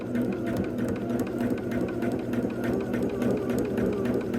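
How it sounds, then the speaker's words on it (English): A sewing machine runs steadily, stitching along the marked line of a quilt foundation, with a continuous mechanical whir and a faint rhythmic needle tapping throughout. "Turn it over so the foundation's up, and we're going to sew right on that line."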